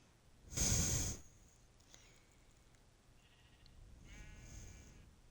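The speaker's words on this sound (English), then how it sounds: "now I gotta rescue this sheep because it's being stupid too." Sheep in the Minecraft video game gives a loud, close bleat, followed by a couple of fainter bleats and snorts against a quiet background, with no talking.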